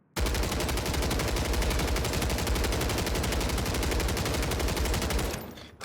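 A gun fires a long, continuous full-auto burst in the video game Warzone Season 3 Reloaded, with rapid, evenly spaced loud shots for about five seconds before cutting off.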